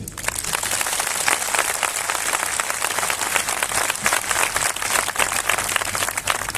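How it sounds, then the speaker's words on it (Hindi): Audience at a church gathering claps loudly with hands raised, a dense, sustained burst of applause with sharp individual claps filling the space. "मैं कहूंगा अगर ताली बजानी है तो हाथ उठा के जोर से बजाइए"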